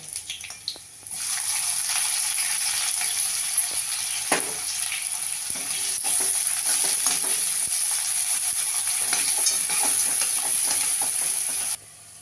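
Onion dropped into hot oil with browned garlic starts a loud, steady hiss and sizzle that holds close and constant for about ten seconds, then cuts off abruptly, with no talking.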